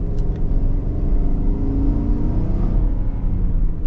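A 2024 Chevy Tahoe Z71 with a 5.3-liter V8 accelerates, giving a deep, steady engine rumble and a rising drone heard from inside the cabin, loud and continuous.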